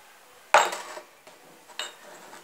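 Two eggs cracked into a bowl of creamed butter and sugar for sablé cookie dough, a sharp knock and splatter followed by a couple of fainter clinks against the bowl, no talking.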